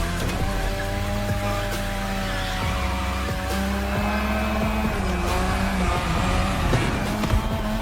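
A car drifts around the drift track in The Crew Motorfest, with a loud, continuous engine drone rising and falling between gear shifts and screeching tires underneath, and no talk.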